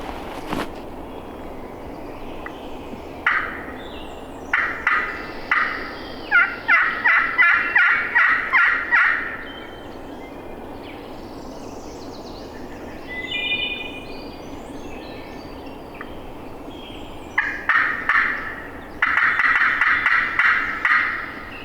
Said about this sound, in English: We're about 300 yards from where we think he gobbled at.